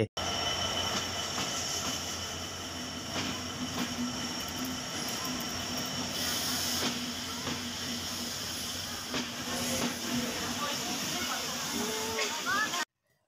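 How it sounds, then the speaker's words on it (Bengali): The Sagardari Express passenger train pulls out of Chuadanga station, heard from on board as a steady low rumble with hissing and occasional wheel squeal, while people talk faintly in the background. "আমাদের ট্রেনটাও চুয়াডাঙ্গা থেকে ছেড়ে দিল"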